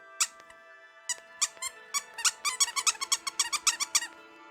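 Soft plush critter toys in the Okami video game give off a rapid series of bright, sharp squeaker squeaks, coming in short irregular bursts with brief pauses between them.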